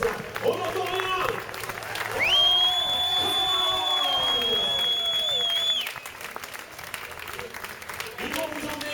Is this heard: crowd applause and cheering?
yes